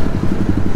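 A motorcycle engine rumbles and revs through its exhaust, a close, loud, pulsing low throb with no voices.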